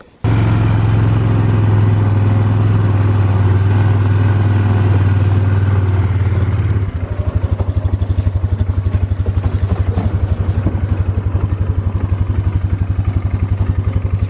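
An ATV engine runs loud and close while pulling a loaded do-it-yourself dirt trailer, holding a steady drone before shifting to a rougher, pulsing chug with rattling clatter from the load, with no talking.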